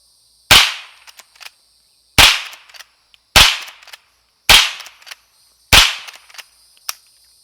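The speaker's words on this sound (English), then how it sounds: "Next three or four are going to be that standard brass wash Federal." Five sharp gunshots from standard brass-wash Federal .22 rounds crack out at roughly one-second intervals, each a loud snap with a short decaying tail, followed by faint clicks and a quieter final pop.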